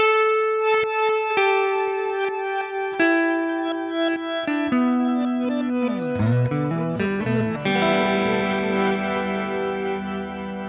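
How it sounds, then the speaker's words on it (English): An electric guitar through Neural DSP Archetype Petrucci plays heavily distorted chords with a wobbling, warbling modulation effect, ringing out with echoing sustain and no talking. "nice bit of distortion. And some wobbliness on the modulation."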